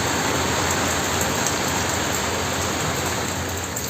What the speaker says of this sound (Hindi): बारिश होने लगी।